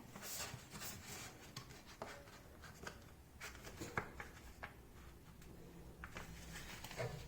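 A sheet of paper being folded in half and creased again while making a mini notebook, with soft rubbing and scraping strokes up close that come in irregular bursts over several seconds.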